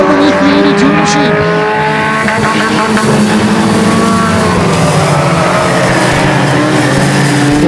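Pure stock race cars at Flamboro Speedway roar past in a continuous, loud wash of engine noise with occasional tire squeal, while a commentator talks over the racing.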